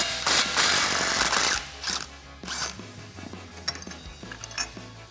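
A 17mm socket wrench works a nut loose on a Jeep Wrangler JK steering stabilizer mount, giving close metallic ratcheting and clanks after a loud burst of rough noise, then scattered lighter clicks.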